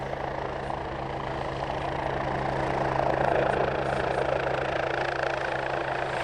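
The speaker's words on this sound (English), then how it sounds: "Terry Martin now in his Westland Wasp" Continuous low rotor and engine drone of a Westland Wasp helicopter flying at an airshow, steady and fairly loud, with a faint rise in intensity midway.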